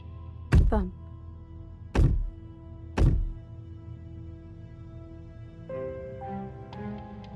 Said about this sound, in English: Thump. Thump.